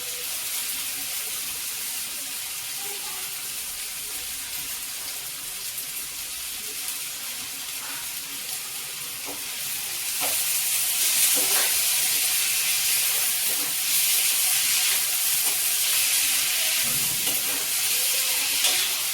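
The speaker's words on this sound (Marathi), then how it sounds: "भाज्या सगळ्या परतून घ्यायच्या।" Vegetables, including onion, spring onion and fenugreek leaves, sauté in a pan for a brinjal bharit. A continuous close sizzle and hiss grows louder about halfway through, with occasional stirring.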